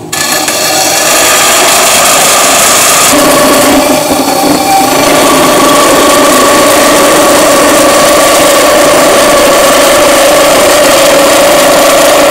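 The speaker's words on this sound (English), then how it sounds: "I'm just gonna cut the titanium with my bandsaw" A bandsaw cutting titanium stock gives a loud, close, continuous grinding whine with a harsh high rasp, shifting slightly in pitch as the blade works through the metal.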